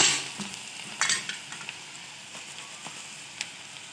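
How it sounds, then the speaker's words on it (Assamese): Cabbage hitting hot mustard oil for a cabbage pickle bursts into a loud sizzle that quickly settles into a quieter, steady fizz. Scattered crackles and pops come through as it is stirred, with no talking. "তেলখিনি গৰম হোৱাত এয়া কবিখিনি দি দিয়া হৈছে।"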